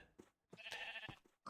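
Sheep in a farming video game bleat in a few short bursts, then give one longer, drawn-out bleat, fairly close and clear with no one talking.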